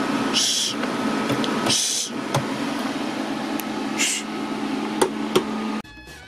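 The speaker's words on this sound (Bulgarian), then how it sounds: "звука ми беше заглушен от шумните вентилатори" Cooling fans of a Power Mac G5 computer whir in a constant drone with a steady hum, broken by a few louder rushing bursts and brief knocks before cutting off abruptly.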